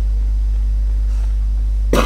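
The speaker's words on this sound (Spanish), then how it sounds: "Ahí necesitaba toser." A single short, sharp cough bursts out right at the end, after a stretch of quiet background.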